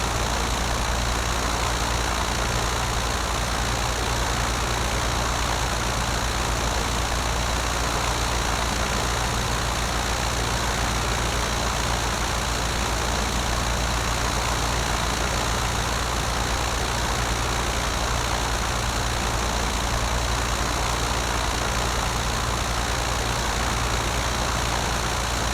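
A simulated Piper Cub light aircraft engine idles while taxiing in Microsoft Flight Simulator X, a steady, unchanging low drone with a constant hum, heard alone with no talk throughout.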